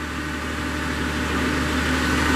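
Hydraulic and engine drone from a Princeton PB55.3 truck-mounted piggyback forklift as its mast carriage moves in and out, a steady mid-low hum that swells slightly toward the end with no talk.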